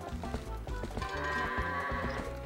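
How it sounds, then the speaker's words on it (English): A goat in the video game Zelda: Twilight Princess bleats in a run of loud, wavering cries over steady game background sound, with no talk. "This is one of the jerk goats."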